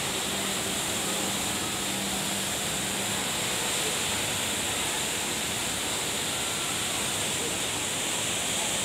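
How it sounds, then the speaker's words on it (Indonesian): Steady broadband roar of the artificial indoor waterfall at Jewel, Singapore's airport complex, a continuous rushing wash of falling water with no voices over it. "Nah, dari sini kita bisa lihat lokasi air terjun buatan Jewel."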